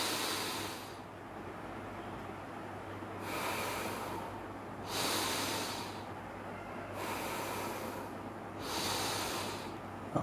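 Slow yogic breathing in a guided exercise, long airy breaths alternating out and in through the nose with soft hissing rushes, close and steady, about every two seconds, no talking.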